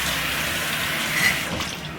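Haddock being washed under a running kitchen tap, a steady close hiss and gush of flowing water that continues without a break, swelling slightly near the middle.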